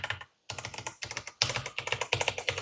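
Typing on a Ducky One 3 TKL tenkeyless keyboard fitted with Gateron Jupiter switches: dense bursts of heavy, clacky keystrokes in quick rhythmic runs, close and loud, with a brief pause near the start and no talking.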